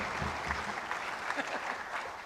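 Audience at an engineering memorial lecture applauding to welcome a speaker, a steady dense wash of clapping from a sizeable crowd, fairly near and even throughout with no talk over it.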